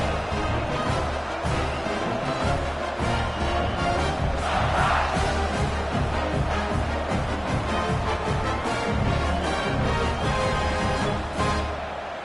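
A home crowd at an Arizona vs South Carolina college football game keeps up a dense, steady roar of cheering, distant and continuous for the whole stretch.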